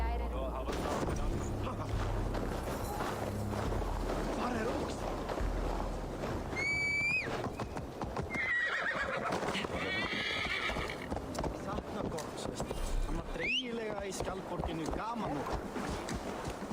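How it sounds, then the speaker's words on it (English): A horse in a video game whinnies several times over galloping hoofbeats and dense game noise, the neighs rising and falling in brief bursts throughout; someone talks over parts of it. "Oh, this horse is slow as fuck. Let's go, horse."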